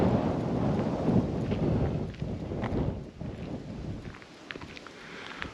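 Wind gusts rumble against the microphone, loud at first and easing toward the end, with no speech.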